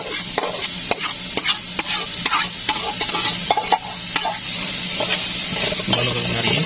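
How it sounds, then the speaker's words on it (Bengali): Diced carrots and capsicum frying in a pan with cumin seeds for vegetable egg fried rice: a loud, steady sizzle and hiss close by, broken by repeated scraping of a spatula as the mix is stirred, with no talking. "এগুলো ভালো করে ভাজে নেব এখানে দিয়ে দেবো জিরাগুলো"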